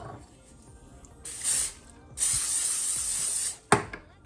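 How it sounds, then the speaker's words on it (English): Several short hissing sprays of olive oil from a spray bottle, one brief burst followed by a longer one, then a quick final spritz. "I'm going to go ahead and spray um, this olive oil on it"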